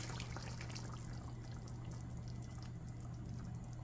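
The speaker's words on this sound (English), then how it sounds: "Now I'm going to go in with the diced tomatoes." Diced tomatoes pour into a simmering peanut sweet potato stew, a faint, steady wet splashing and trickling, alone.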